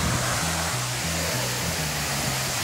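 A waterfall in Minas Gerais roars as a dense, steady wash of rushing water, loud and close, with a low hum running underneath.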